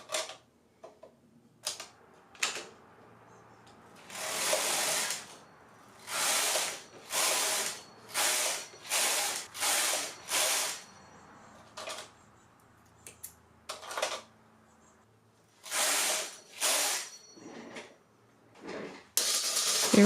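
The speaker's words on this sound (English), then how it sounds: "knitting one last row of plain knitting to make the bind off easier" A knitting machine carriage runs across a final row of plain knitting ahead of the bind-off, making repeated loud mechanical rattling sweeps, about ten passes broken by short pauses, up close and with no talking.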